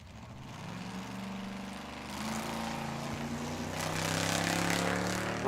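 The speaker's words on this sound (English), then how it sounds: "the Ford Ranger pickup. 350 cubic inch engine underneath that hood." A Ford Ranger pickup drag car with a 350 cubic inch engine rumbles at a dragway, a loud steady engine drone that builds in intensity toward the end.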